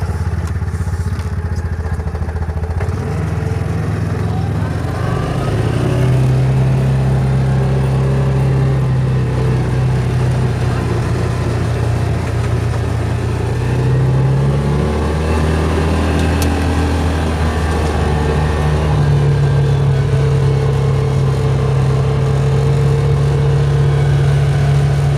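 A Yamaha Rhino 700 UTV drives along with its engine running steadily, a loud, continuous mid-range drone that shifts pitch as the throttle changes, with no talking over it.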